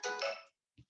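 A phone ringtone plays a short bright melodic chime lasting about half a second, followed by a brief faint tone, in an otherwise quiet room.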